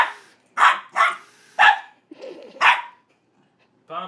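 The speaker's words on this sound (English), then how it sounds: "Stop barking in my ear." A corgi barks right at the microphone, four loud sharp barks in an irregular rhythm with a soft growl between them and the start of a fifth at the end.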